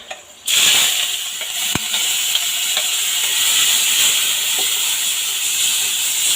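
Green chili, garlic and fenugreek seeds hit hot fish oil after a brief quiet moment, bursting into a loud, steady frying hiss and sizzle that holds for several seconds with no voices.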